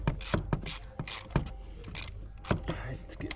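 A ratchet loosens a spark plug on a Ford Raptor, giving a close, rapid series of sharp clicks in quick uneven bursts, with faint murmuring in the background.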